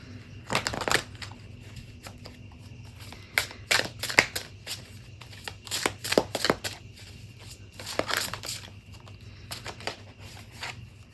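A tarot deck, similar to a standard learning deck, is shuffled in repeated quick bursts of card flutter and riffling, close and fairly crisp, with brief pauses between shuffles and no talking.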